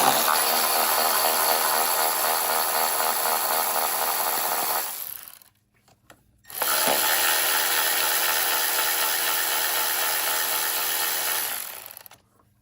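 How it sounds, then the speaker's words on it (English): Power tool running steadily to remove 8mm bolts from a Ford F-150 5.0L Coyote engine, in two loud continuous bursts of about five seconds each, separated by a short pause. "We can start pulling the 8mm bolts."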